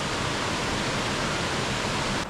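A waterfall on the cold Mrzli potok stream in the Posočje area roars steadily and loudly nearby, an unbroken wash of falling water with no talking.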